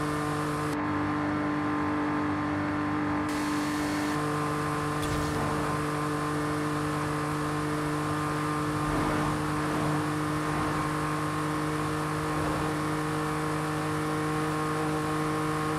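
A naturally aspirated car engine with no turbo or supercharger revs and pulls hard in Forza Horizon 5, a sustained loud whine holding steady pitch with slight shifts, alone without talk.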